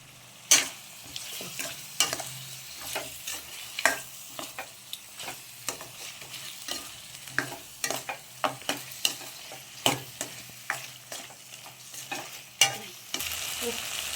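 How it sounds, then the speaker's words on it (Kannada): Ground mint masala paste for a green chicken gravy is fried in a pan, with steady soft sizzling broken by frequent sharp scrapes and taps of a spoon stirring against the metal, close and fairly quiet, no voices. "ಇದೆಲ್ಲ ಒಂದು ಸ್ವಲ್ಪ ಫ್ರೈ ಮಾಡ್ಕೊಳ್ಳೋಣ ಚೆನ್ನಾಗಿ."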